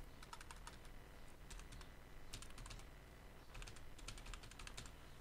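Someone types a word on a computer keyboard in quick clusters of light key clicks with short pauses, soft and close over a faint background hiss.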